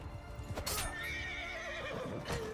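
A horse neighs in Mount & Blade II: Bannerlord, a loud, wavering whinny rising over battle noise, with a few hoof clops and sharp impacts around it.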